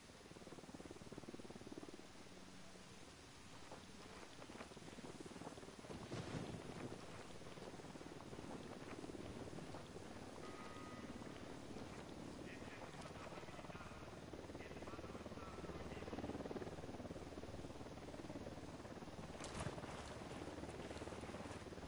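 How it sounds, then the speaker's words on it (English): Helicopter rotor drone in the Ghost Recon Wildlands game, a steady broad whooshing roar that holds for the whole stretch and swells slightly, heard alone at a moderate level. "Helicopter inbound."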